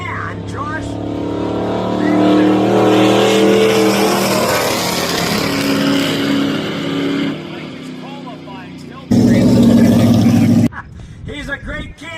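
A Ford Econoline van runs at a drag racing event, its engine a steady, loud drone that swells and holds, with an announcer talking over it throughout.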